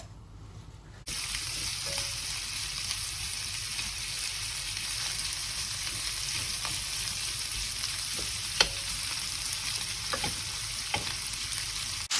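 Chorizo and shrimp sizzle and fry steadily in a hot pan, with a continuous bright crackle that starts after about a second of near silence and carries occasional small pops and clicks, with no voices.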